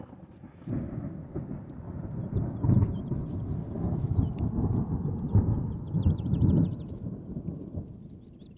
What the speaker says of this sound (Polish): za chwilę usłyszycie pewnie uderzenie, bo błysło, więc ciekawe jak będzie silne